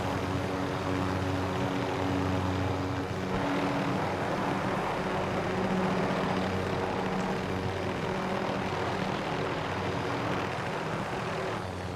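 A helicopter in the video game Warzone flies with a steady, loud engine and rotor drone that stays constant throughout, with no talking.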